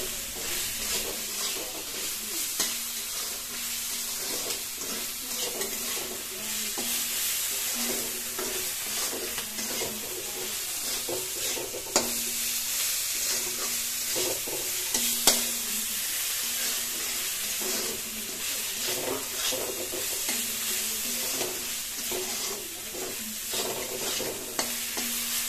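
Turmeric being stirred into eggplant and egg curry frying in mustard oil, a steady sizzle and hiss under repeated scraping stirs that continue for the whole stretch with no talking.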